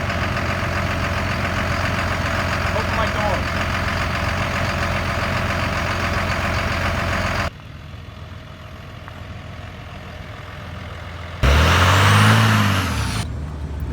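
A Ford F350 pickup with a Cummins diesel swap idles steadily and loudly, then the sound drops as a door opens, followed by a brief louder burst with a low rumbling sweep; a few words are spoken.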